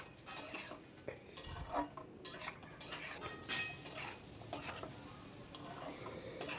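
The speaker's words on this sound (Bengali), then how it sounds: "একটু সামান্য আবার জল দিয়ে আমি এটাকে কষতে থাকবো।" A spoon stirs and scrapes curry in a pot as it sautés after a splash of water, giving repeated clinks and scrapes over a soft, steady sizzle, close by and without speech.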